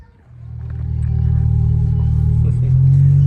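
A car engine fitted with a new intake manifold starts and settles into a steady low-RPM idle, a deep, even rumble that holds close and loud with a slight rise at the end.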